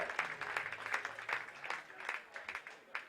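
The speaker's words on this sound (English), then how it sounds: "Much deserved round of applause for the grounds crew here" Crowd applause ripples steadily through a large gathering at a baseball tournament game, sustained clapping from many hands over the full few seconds.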